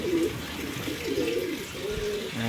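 Breeder pigeons in a loft coo with soft, rolling throaty calls that repeat several times at close range over a steady background hiss.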